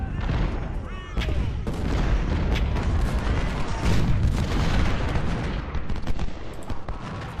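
Infantry musket volleys in the Civil War strategy game Ultimate General: Civil War, at the Battle of Malvern Hill: a continuous, loud crackle of massed rifle fire and booming reports rolls on without a break.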